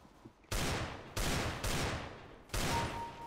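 Four loud, close gunshots from a Desert Eagle pistol in Counter-Strike: Global Offensive deathmatch, fired at irregular intervals with short decaying tails and no talk.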